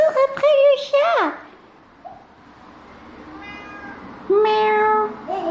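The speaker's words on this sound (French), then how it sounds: "Cours après le chat." A cat meows loudly twice, with long drawn-out cries separated by a quiet pause and brief faint sounds in between.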